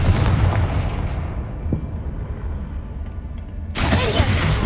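A Confringo spell blast in a Harry Potter video game: a loud, broad explosive burst at the start fades into a rumbling tail, and a second heavy blast erupts near the end.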